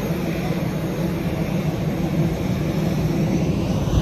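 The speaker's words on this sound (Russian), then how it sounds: "Посмотрите на его двигатель." An airliner's engine roars steadily at an airport before boarding, a loud and even broadband rumble and hiss that holds without a break, with no voices over it.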